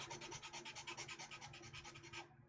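Sanding blocks work over a part of an MG Jesta plastic model kit, giving a steady, close rasping rub in quick repeated strokes for about two seconds before stopping abruptly.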